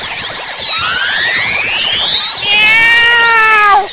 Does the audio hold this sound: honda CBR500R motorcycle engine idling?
no